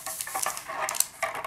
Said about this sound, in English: Thanks for stirring, young daughter.